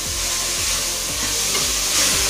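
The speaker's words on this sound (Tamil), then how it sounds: "நான் தக்காளியும் நல்லா வதக்கிக்கோங்க" Two large tomatoes are sautéed in a pan for mutton masala, sizzling steadily as a spatula scrapes and stirs in a quick repeating rhythm, close and alone.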